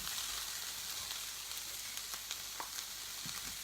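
Eggs and sausage fry in pans over high heat, giving a steady, close sizzle with scattered crackles and small pops and no talking.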